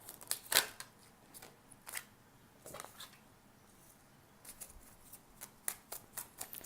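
Tarot cards are shuffled close by in quiet, irregular bursts of soft flicks and snaps, separated by short pauses.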